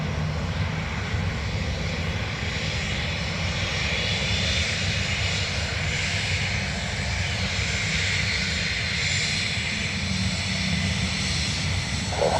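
Aircraft taking off from the runway at Dublin Airport: a loud, continuous engine roar with a broad rushing hiss that holds steady throughout, heard from a distance without voices.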